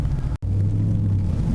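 A decatted Toyota Supra exhaust drones steadily at close range, a deep low rumble that cuts out for an instant before resuming and building slightly as the car pulls away in first gear.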